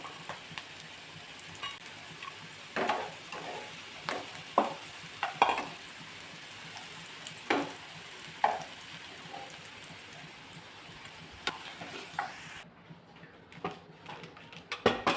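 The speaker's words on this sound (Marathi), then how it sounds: "इथं बघू शकताय अशा पद्धतीने ही कारली भाजलेली आहेत आता तेलामध्ये छान" Bitter gourd fries in oil in a pan with a quiet, steady sizzle, broken by intermittent scraping and clinking from a spatula. No one speaks, and the sizzle fades near the end.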